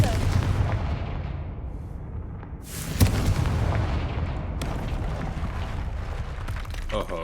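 Spell explosions blast through a Hogwarts Legacy fantasy battle, a dense roar of booms and bursts with a sharp crack near the three-second mark, continuous and loud with no speech over it.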